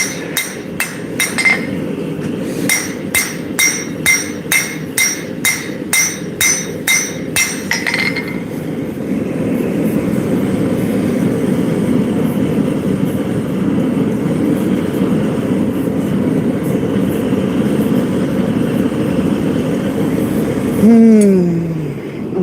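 Hammer forging a steel blade: a run of loud, regular ringing metal strikes for several seconds, followed by a long rumbling mechanical drone and a brief rising whine near the end.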